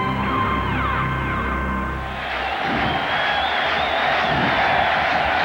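Green Bay Packers stadium crowd in a 1998 football game breaking into a rhythmic chant: a loud, dense roar of thousands of voices swelling and pulsing, following a stretch of tonal music and broadcast sound.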